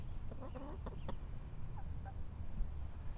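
Barred Rock chickens in a backyard coop give several soft, close clucks and short murmuring calls over a low outdoor background hum.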